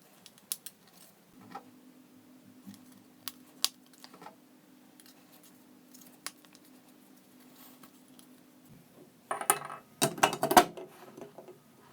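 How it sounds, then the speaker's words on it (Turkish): Small plastic screw covers are pressed back into a Beko Maxi BKK 2262 food chopper, giving faint, sparse clicks and taps over a quiet room with a low hum, then a brief cluster of louder plastic rattles near the end. "Vida kapaklarını yine yerine yerleştiriyorum."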